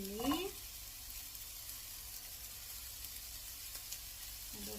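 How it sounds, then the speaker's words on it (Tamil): Onion and garlic frying in a pan with fennel seeds for a drumstick leaf fry, a soft steady sizzle that continues quietly throughout after a brief clatter at the start. "அதோடு சேர்த்து கறிவேப்பிலை போட்டுட்டு இதை நல்லா வதங்கி விடுவோம்."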